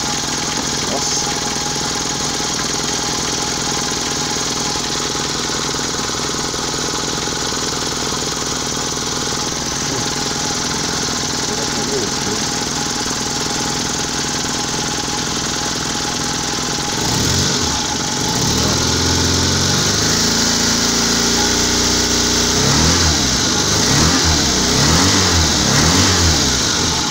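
A Volkswagen Gol engine, still warming up after power steering work, idles steadily, then revs up repeatedly in rising and falling bursts, loud and close.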